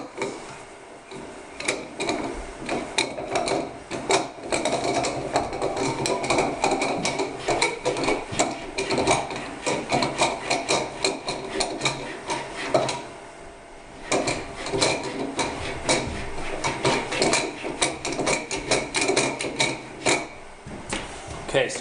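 A wooden vise screw for a Moravian workbench top is threaded into a wooden block, giving irregular knocking, creaking and rattling clatter close up over about twenty seconds.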